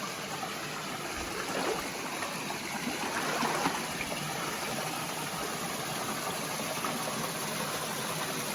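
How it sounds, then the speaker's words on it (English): Constant rushing water, a steady broad roar of a waterfall pouring over a big chockstone, unbroken and fairly close for the whole stretch. "A lovely big chockstone there with water coming down."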